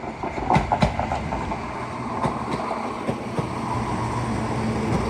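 East Midlands Railway Class 170 diesel unit 170 503 rolls into Derby station, a loud steady rumble with clickety-clack wheel beats and occasional clanks as it pulls along the platform.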